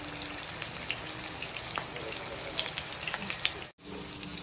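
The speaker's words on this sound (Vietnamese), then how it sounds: "Cái này mình chiên lần 1 xong mình chiên lần 2 nha cả nhà." Food sizzles in hot oil during a second frying, a dense crackling hiss with scattered pops and bubbling that holds steady throughout, with one brief dropout near the end.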